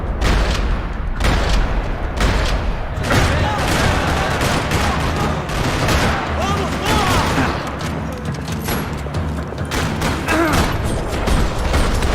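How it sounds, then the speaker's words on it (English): Sustained, dense gunfire echoes through a parking lot in the video game Max Payne 3, with automatic bursts and heavy impacts rattling close and loud throughout. "Another parking lot rattling with gunfire."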